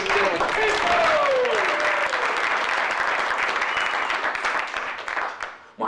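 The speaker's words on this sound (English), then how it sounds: "A big round of applause for Chico" A comedy club audience applauds and cheers as a comedian takes the stage, loud continuous clapping with whoops over it, tapering off near the end as a voice comes in.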